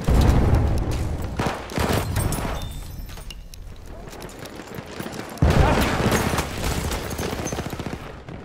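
Gunfire and a grenade blast in the Battlefield 1 war game: bursts of rapid shots, then a loud, sudden explosion-like boom about midway, with more dense firing around it, close and heavy.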